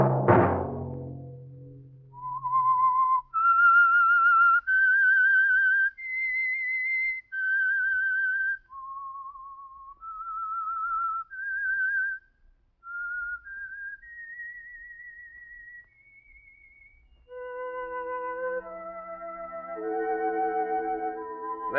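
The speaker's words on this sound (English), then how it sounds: "Let that whistle be your signal for the Signal Oil program, The Whistler" Theme whistle of The Whistler radio mystery program, a lone clear melodic whistle rising and falling in sustained notes, then joined near the end by an orchestral swell.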